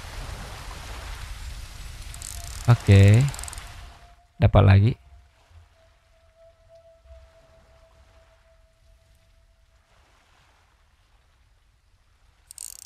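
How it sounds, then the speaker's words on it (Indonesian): Heavy rain in the survival game Surroundead at a riverside spot gives a dense hiss for the first few seconds while someone talks loudly over it, then the scene falls almost silent. "Hujan deras."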